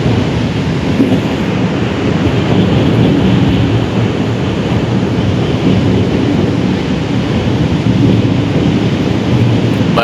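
Primary jaw crusher breaking large stones at a stone crusher plant: a loud, unbroken heavy rumble with gritty grinding texture, steady throughout and with no voices.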